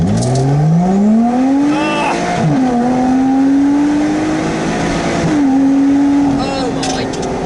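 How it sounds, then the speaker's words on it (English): A Lotus Exige V6 S engine roars hard in first gear on a straight road, its note rising steeply before a quick shift and another climbing surge, loud and close inside the cabin with a voice over it. "We're now in first gear, straight road, and this is a manual acceleration."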